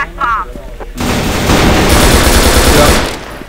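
A VIP gun in the War clan game fires a loud, rapid sustained burst lasting about two seconds. A brief voice-like sound comes just before the shooting starts.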